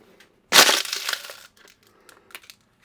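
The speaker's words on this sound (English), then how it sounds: "Put all these big bottles in the trash" Big bottles dropped into a trash can land with a loud crashing clatter, followed by a brief rattle and a few faint knocks and clinks as they settle.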